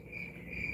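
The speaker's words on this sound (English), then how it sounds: "That's when I just hear crickets all over the place." Crickets chirp in a steady, continuous high trill, a thin insect buzz that fills the quiet with no voices present.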